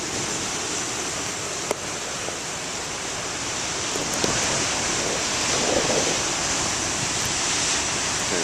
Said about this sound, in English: That's when you get some real big waves